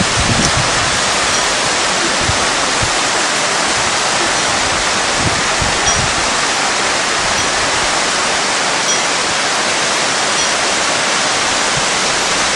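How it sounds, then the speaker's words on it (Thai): A small waterfall on the mountain trail to Tiger's Nest monastery in Bhutan rushes steadily, a loud, broadband roar of falling water that fills the scene without pause, with some wind buffeting. "ก็จะมีน้ำตกสายเล็กๆเลยนะฮะ"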